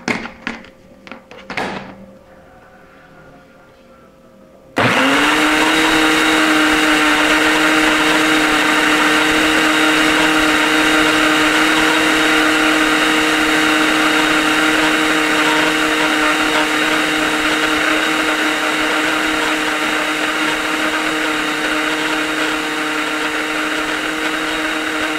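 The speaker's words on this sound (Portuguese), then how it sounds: "Vamos pro liquidificador." A few clunks and taps, then a blender motor starts abruptly and whirs loudly and steadily for the rest of the clip.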